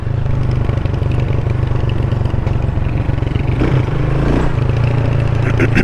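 A motorcycle engine drones loud and close while riding over a rough road in Jamaica, with constant low rumble and rattling clatter from the bumpy surface throughout.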